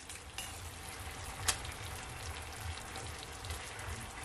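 Chicken thighs in a honey jerk sauce frying in a pan, giving a steady, soft crackling sizzle with faint spitting pops and one brief sharper pop, close by and with no voices.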